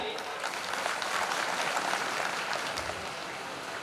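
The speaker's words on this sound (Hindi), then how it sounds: "एक बार जोरदार ताली" A crowd at a Rajput Kshatriya community oath-taking ceremony gives sustained, even applause that sounds somewhat distant and subdued, with a thick wash of clapping and no individual claps standing out.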